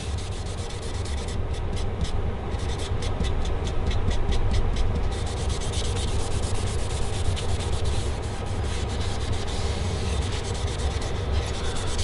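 Steady sanding on a stained one-piece maple guitar top, a continuous close scratchy rubbing with rhythmic back-and-forth strokes that runs without pause throughout.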